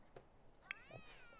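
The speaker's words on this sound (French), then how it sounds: "Ah, on a un chat qui miaule." A cat meows in The Sims 4, one short rising mew standing out briefly from quiet game ambience, with a faint lighter call just after.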